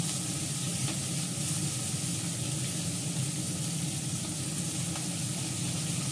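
Cauliflower with green chillies frying in a pan, giving a steady, even sizzle and hiss that holds at the same level throughout, close by and with no talk over it.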